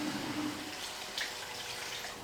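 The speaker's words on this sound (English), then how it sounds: "I'm gonna add a little water" Water splashes into a hot pan to deglaze it while chicken stock is being made, a steady sizzling wash of liquid that swells briefly partway through, with no talk.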